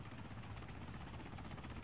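Helicopter in the military game Arma 3, a steady low rotor thrum with a faint buzzing whine that stays constant and fairly close throughout, with no speech.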